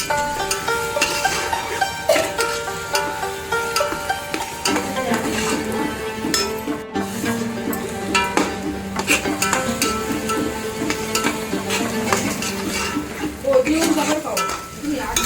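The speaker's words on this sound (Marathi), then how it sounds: "त्यामध्ये टाकायची आहे अद्रक लसणाची पेस्ट जी घरच्या घरीच बनवलेली आहे वहिनींनी ती पण थोडी एक दोन मिनटं परतून घ्यायची आहे" Ginger-garlic paste being sautéed and stirred in a pan for a home-cooked veg biryani: a steady sizzle with scraping stir strokes runs throughout, moderately loud, over continuous tonal background sound.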